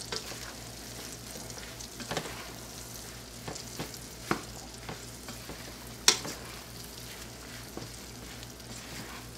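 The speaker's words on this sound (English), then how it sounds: "we're going to stir these, take it off the heat, and stir these up until they are completely melted" Marshmallows melting in butter in a pan, stirred off the heat; a faint soft crackle under scattered scraping and tapping of the utensil, one sharper knock midway.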